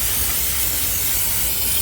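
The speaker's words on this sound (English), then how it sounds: "I'm using this Muck Off chain cleaner" Muc-Off chain cleaner sprayed onto the chain of a 2023 Honda Rebel 500 motorcycle, a steady close hiss that runs unbroken from start to finish with no talking.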